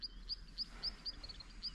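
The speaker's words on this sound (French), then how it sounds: "Là, il y a des oiseaux." Birds call at a waterhole in Kruger National Park, repeating high, thin chirps at a steady rhythm over a low outdoor rumble. The calls carry from a moderate distance and no voices are heard.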